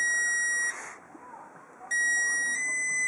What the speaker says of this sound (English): And you see it always beeps, and also the light dims a bit.